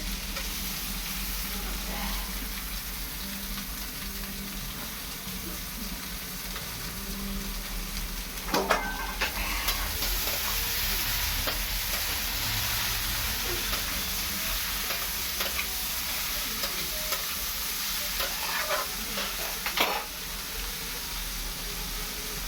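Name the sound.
soaked okra added to hot pan, sizzling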